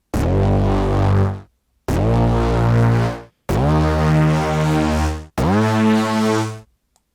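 Four sustained notes from the Noizefield Cinematic Cyberwave synth with a negative filter envelope, each a loud, rich harmonic tone holding about a second and a half, separated by short gaps.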